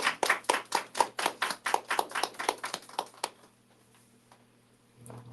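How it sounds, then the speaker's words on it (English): Sparse applause from a small audience at a live book talk, a few hands clapping in a steady, evenly spaced rhythm for about three seconds before fading into near silence. "Give them a round of applause."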